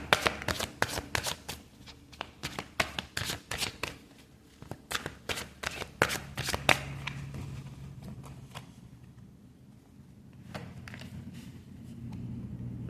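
Tarot cards being shuffled and drawn: a rapid series of crisp riffling snaps and slaps, dense at first, then slowing to a few scattered flicks before going quiet, close and alone.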